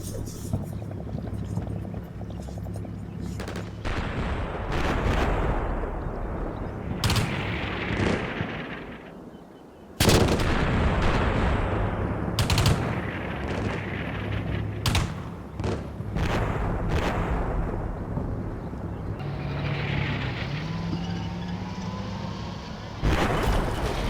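Artillery fire mission in Combat Mission Shock Force, striking a compound: sharp, loud blasts and thuds land at irregular intervals, with rumbling between impacts and a low engine drone under scattered voices.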